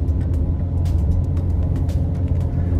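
Manual car engine labouring in first gear up a hill near 3000 RPM, a steady low droning rumble heard from inside the cabin with no talk.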